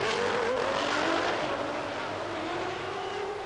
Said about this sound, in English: And Prost is in and out as well.